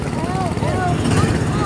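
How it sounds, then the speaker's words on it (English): Small engines buzzing like a crowd of lawnmowers at Magic Kingdom, a dense mechanical drone with wavering whine tones rising and falling over a rumbling base, steady and fairly loud throughout. "Yeah, it's basically lawnmower engines."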